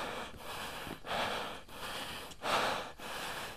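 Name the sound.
heavy panting while out of breath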